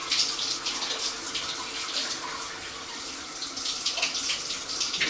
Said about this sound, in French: Ça, c'est l'eau froide.